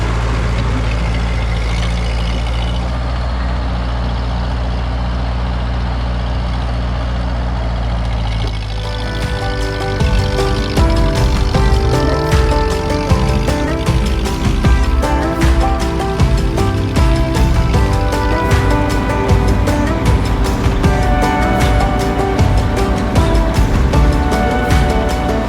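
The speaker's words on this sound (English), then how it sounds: "I'm gonna take the tractor out in the field, a couple laps around, run the brush hog" A Ford 8N tractor idles with a steady low drone, then a louder, rougher engine roar sets in as it drives laps around a field running a brush hog mower, continuing without pause and with no talk.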